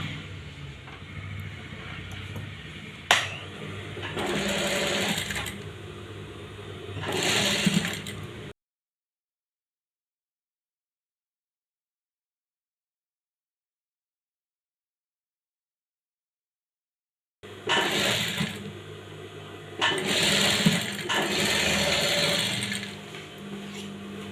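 A sewing machine stitches a blouse neckline in close, steady mechanical runs, stopping for a long silent stretch before the whirring stitching resumes.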